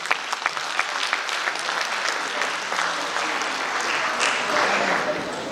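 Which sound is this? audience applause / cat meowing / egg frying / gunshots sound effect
audience applause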